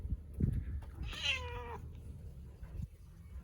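A cat gives a single clear, close meow that rises and falls, set against a quiet background with a few soft bumps.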